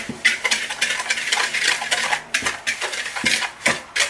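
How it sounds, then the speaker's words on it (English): Spoon stirring sugar with egg replacer and chia seeds in a bowl for vegan brownies, close and fairly loud, with rhythmic scraping strokes and repeated clinks against the bowl. "Get everything stirred up."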